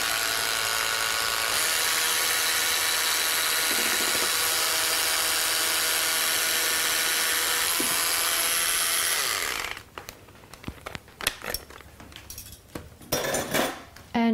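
Egg whites are whisked by hand for stiff peaks in a chocolate raisin cake recipe, a dense continuous rattling and scraping of the whisk against the bowl for about ten seconds, then breaking into sparser clinks and taps.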